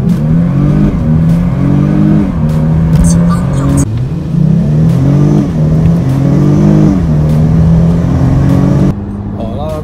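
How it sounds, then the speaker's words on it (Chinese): A Mercedes-Benz SLK280 with a 3.0 V6, fitted with a high-flow air filter, accelerates hard from 0 to 100 km/h, its engine revving up through several gear changes, loud and close inside the cabin. "那我们现在 来试看看，上班前来试一下零到一百加速"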